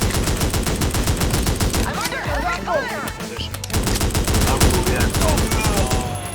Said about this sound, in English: Oh, now he's shooting at me.